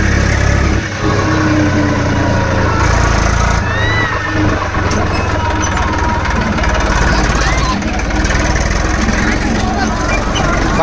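A tractor engine chugs steadily and loudly throughout a farm ride on a one-day farming trip, a constant close mechanical rumble with voices faintly mixed in.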